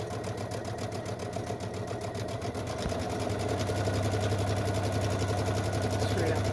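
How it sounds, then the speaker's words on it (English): A sewing machine stitches seams on a Dodgers-inspired project with a steady, close mechanical whir and rapid needle rhythm, running continuously under a speaking voice. "While we are sewing, we want to make sure again that we do a couple stitches forward, a couple stitches back"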